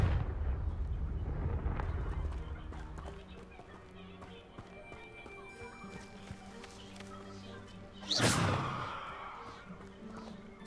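Fiery spell explosions in the video game Hogwarts Legacy, with a loud whooshing burst near the end standing out over constant game music and ambience, after a busy, rumbling opening.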